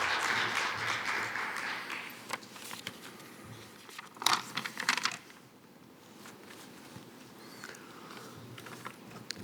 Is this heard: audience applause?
yes